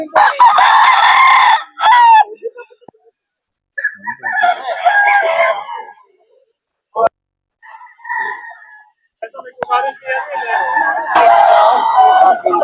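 Bullstag roosters at a farm breeders' poultry market in Bocaue crow and cluck close by in several loud bursts separated by short silences, with people talking intermittently among the calls.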